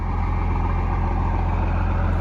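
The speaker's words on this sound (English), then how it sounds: "Fires right up like a first gen." An old first-generation Cummins turbo diesel truck engine idles steadily right after starting up, a loud, close, rumbling drone with an even pulsing beat and no break.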